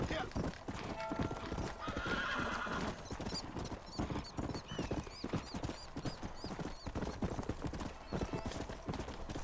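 Horse hooves clip-clop steadily at a gallop in a Red Dead Redemption video game, with whinnies and neighs mixed in, while people talk over the sound throughout.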